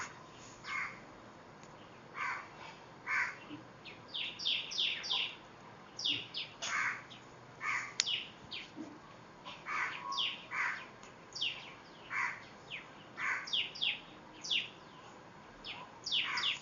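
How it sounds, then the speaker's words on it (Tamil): Crows cawing among other birds chirping in trees at a market in Delhi during rain, with repeated calls in bursts from several birds, moderately near and clear over a low background hiss. "மரம் ஃபுல்லாகவே பறவைகளாக தான் இருக்குது"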